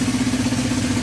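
A Honda CB350 motorcycle engine idles close by, an even, humming mechanical beat held steady across the whole brief moment.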